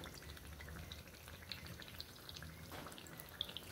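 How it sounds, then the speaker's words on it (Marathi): A single sajuri, a traditional Satara sweet of foxtail millet and jaggery, fries in hot oil, giving a steady soft crackling sizzle with small bright pops scattered throughout and no voices. "आता इथं एकच सजुरी आपण तळून घेतोय"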